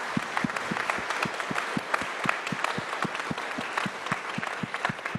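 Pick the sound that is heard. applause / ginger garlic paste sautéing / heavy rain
applause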